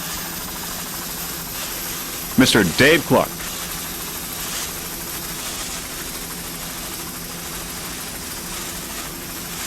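A helicopter flies over a sailboat race at the Key West World Championships, its steady rotor and engine drone filling the whole stretch with a brief burst of a voice partway through.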